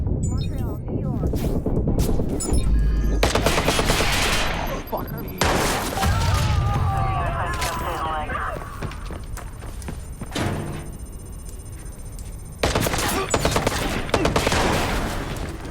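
Enemy rifle fire in the Watch Dogs video game, with loud bursts of automatic shots and sharp impacts coming in clusters under someone talking.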